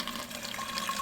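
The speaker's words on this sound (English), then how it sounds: "and then I'm going to fill this with water." Water runs steadily into a spray bottle already holding neem oil and a little dish soap, a close, continuous rush and trickle of filling liquid with no talking.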